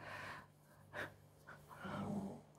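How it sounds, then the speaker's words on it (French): A dog snores nearby while someone crochets, giving soft breathy snorts and gasps in a slow, uneven rhythm, faint and close with a low hum underneath. "on fait le chien qui ronfle à côté"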